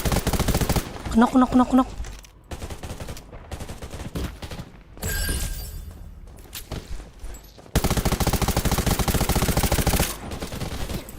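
Gunfire in the shooter game Undawn, with rapid automatic bursts and repeated shots mixed with game effects, while players talk over the action.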